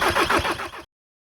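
A Skoda Yeti with fresh oil and an engine timing fault cranks in a fast, loud, rhythmic whir for under a second, then cuts off abruptly without catching.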